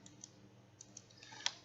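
Computer keyboard keys are tapped a few times, quiet and sparse clicks against a faint background hum, with no talking.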